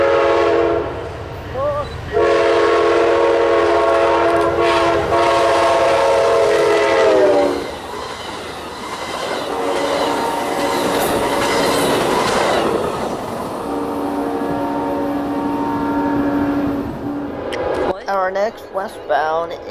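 Amtrak train 29 passes at speed through Chesterton, Indiana, with a loud sustained horn blast, then the rushing roar and clatter of the cars, and a second horn sounding near the end.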